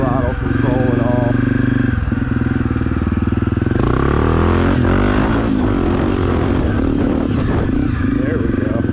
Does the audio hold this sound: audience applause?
no